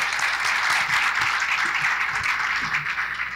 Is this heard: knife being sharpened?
no